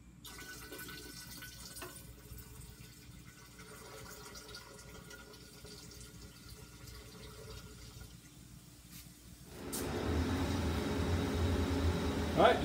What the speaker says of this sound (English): I'm gonna slowly add 200 more milliliters of nitric acid